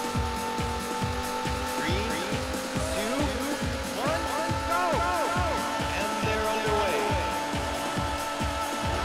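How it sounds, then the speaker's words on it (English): Race car engines rev in a fast, rhythmic pulse in a racing video game, with rising tire squeals over the top and a steady loud drone throughout. "Gentlemen, start your engines."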